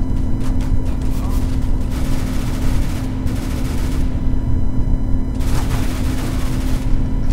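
P90 submachine gun fire in the game CS:GO, dense rapid bursts with booming shots close and loud, continuing through most of the stretch with brief lulls.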